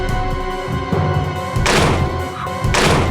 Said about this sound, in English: Next, the rocket launcher, which is dropped to you during the final boss fight.